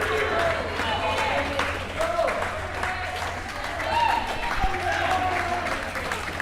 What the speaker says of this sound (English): they're cheering on their teammate, really giving him that encouragement